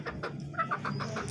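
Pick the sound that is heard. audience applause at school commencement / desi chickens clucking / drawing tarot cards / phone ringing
desi chickens clucking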